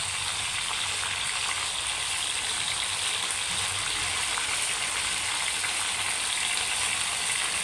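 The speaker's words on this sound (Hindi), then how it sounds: "देखिए, अब मैं इसमें चिकन डालने लगी हूँ।" Chicken and onions fry in a karahi with a steady, dense sizzle that holds at an even loudness throughout, close up and with no talking.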